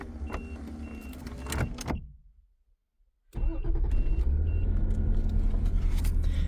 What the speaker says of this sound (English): Next thing you want to do is you want to start your car up.